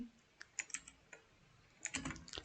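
Code being typed on a computer keyboard: scattered quiet key clicks in a few short bursts, with a denser flurry of keystrokes near the end, no voices.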